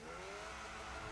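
A race car in a racing game at Imola, driven flat out after brushing the wall at Tosa, gives off a steady, continuous engine roar with a droning tone that runs the whole moment without a break.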